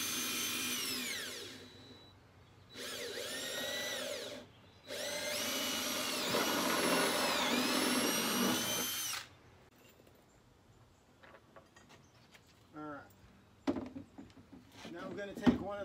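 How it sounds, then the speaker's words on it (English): A power drill drives screws through pipe into wooden boards while building stall bars, with three loud whirring bursts that rise in pitch, then quieter clatter and handling noises afterward. "I'm gonna take a screw, I'm gonna put it through the pipe."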